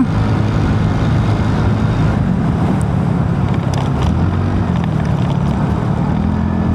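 A 2025 TVS Ntorq 150 scooter on the road, recorded from a helmet-mounted action camera: loud, constant wind rush blends with a droning engine hum for the whole stretch, with no speech.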